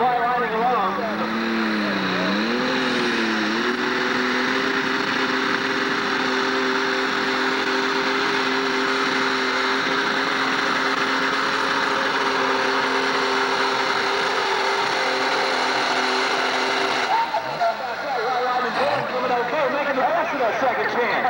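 A pulling tractor's engine at a 1996 tractor pull in Madisonville, Kentucky roars with a high, sustained whine as its pitch sweeps up and then holds steady for a long run before cutting off, with an announcer talking over it.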